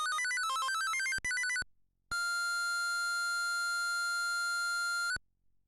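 Bright electronic chiptune beeps from the Game & Watch: Zelda handheld game in a quick melodic run, a short pause, then one long sustained synthetic tone that stops abruptly.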